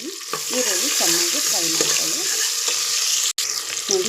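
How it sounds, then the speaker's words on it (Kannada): Chopped onion frying in hot oil with garlic, chilli and asafoetida for a cooling green gram sambar: a steady close sizzle broken by repeated squeaky scrapes of stirring, with a brief dropout near the end. "ಈರುಳ್ಳಿ ಫ್ರೈ ಆಗ್ತಾಯಿದೆ"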